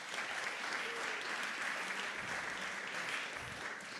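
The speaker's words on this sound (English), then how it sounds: "Can we give a round of applause for Will and Wyatt?" Audience at an innovation and entrepreneurship awards night giving a round of applause, with steady, dense clapping that holds at an even level throughout.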